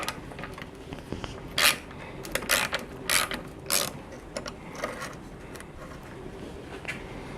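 A ratchet loosens an exhaust clamp on a Lambretta scooter, giving sharp, close metallic clicking strokes in uneven bursts of a few turns at a time, with short quiet gaps in between.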